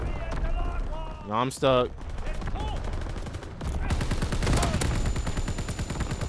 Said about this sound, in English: Incoming enemy artillery. Get to cover. Enemy mortar fire.